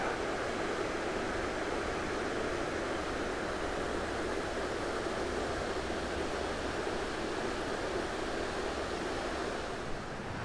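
River rapids rushing on 6 Mile Creek, a steady broadband roar of fast water close by, continuous and unbroken with no voices.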